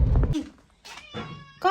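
A cat at a mountain home gives a few short meows, fairly close, separated by pauses, with a brief rustle at the start.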